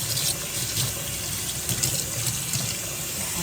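Tap water runs steadily and loudly into a sink while dyed fabric is rinsed under it, a continuous close splashing gush with no voices.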